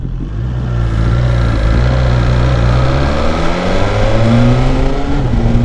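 A 2020 BMW S1000XR motorcycle pulls away and accelerates, its engine note loud and steady with rising harmonics climbing through the gears, heard close with no talking.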